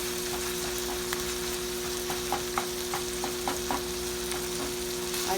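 Onions fry in a pan for hamburger soup with ground beef, giving a soft, steady sizzle and a few light stirring taps against a constant background hum.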